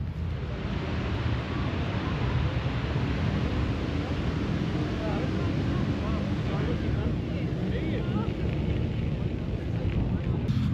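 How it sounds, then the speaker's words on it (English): Harley-Davidson motorcycles rumble through a seaside town during a charity ride, a dense, continuous low engine drone heard steadily throughout with wind buffeting the microphone and no voices. "All you can hear is the town just rumbling with Harleys."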